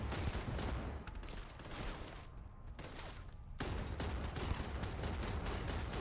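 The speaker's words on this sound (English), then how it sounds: "You can definitely rapid fire this gun, which is really, really nice." A sniper rifle in Starfield fires rapidly, with repeated loud, beefy shots in quick succession and a short pause partway through. No one speaks.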